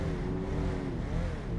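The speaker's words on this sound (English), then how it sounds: "Was not expecting that one car to pass at the speed it did." A car speeds past on a city street at a traffic light, a loud, steady engine rush with a slight rise and fall in pitch over a brief moment, with no voices.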